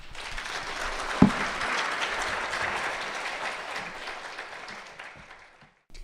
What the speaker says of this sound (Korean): 이상백 회장님 나오실 때 큰 박수 부탁합니다.